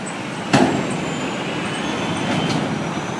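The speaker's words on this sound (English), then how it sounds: "Wait for all the trucks to go by." Heavy trucks roll past on a busy city street, a steady near roadway rumble with a sharp knock early on and a slight swell as another vehicle goes by.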